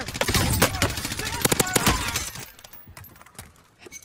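Rapid gunfire from a zombie shooter video game crackles in dense bursts, loud at first and then thinning into scattered shots and clinks, with a voice speaking faintly beneath.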